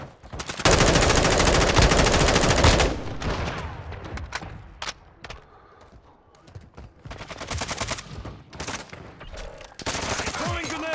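Sustained automatic gunfire in Call of Duty: Modern Warfare II, rapid loud bursts of machine-gun rounds followed by scattered single shots and pauses, then another heavy burst at the end.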